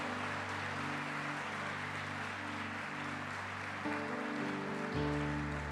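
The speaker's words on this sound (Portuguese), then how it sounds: "Quero pedir que a igreja aplauda Jesus pela vida dos pastores Newton e Franklin." A church congregation applauds during a service, a steady wash of clapping held over sustained keyboard or organ chords that swell louder toward the end.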